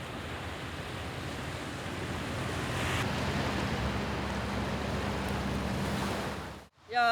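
Steady roar of waves breaking along the Jeju seashore near home after typhoon swells, continuous broadband surf with some wind buffeting, fairly loud and close, no voices, ending in a brief handling thump.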